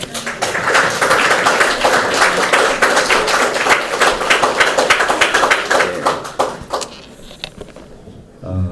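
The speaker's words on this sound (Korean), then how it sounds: "목사님 나오실 때 큰 박수로 환영해 주시기 바랍니다" Applause welcoming a pastor at a church faith retreat, a loud, close burst of many hands clapping that carries for about seven seconds, then breaks into scattered claps and fades.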